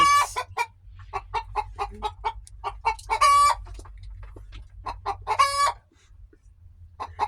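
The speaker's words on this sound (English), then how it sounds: "I have a bougie country chicken." A backyard country chicken clucks in quick repeated bursts close by, with a couple of longer squawking calls mixed in, over a low steady background hum and without anyone talking.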